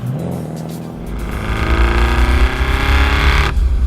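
An 800 hp twin-turbo V8 BMW E30 accelerates hard nearby, its engine rising into a loud, sustained roar with a rough low rumble and tire noise, continuous throughout.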